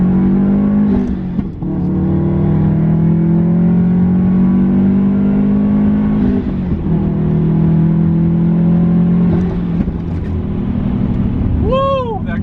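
Turbocharged Subaru Legacy GT pulling hard under full throttle, a loud continuous engine drone climbing in pitch through the gears with short dips at shifts, heard from inside the car, with a turbo whistle near the end.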